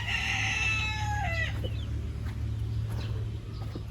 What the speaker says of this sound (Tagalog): Ayan yung magkapatid na manok na sisiw.